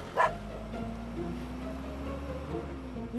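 A dog chasing after someone gives one short, sharp bark. A steady low hum from a vehicle or engine follows and continues for the rest of the moment.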